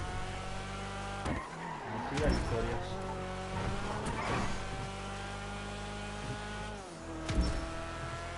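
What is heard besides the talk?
car engines racing in video game GTA Online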